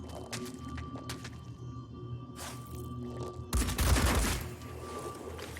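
Gunfire in the video game Phoenix Point during a fight against a huge crab creature: scattered faint shots give way to a louder, heavier burst of fire that dies back down.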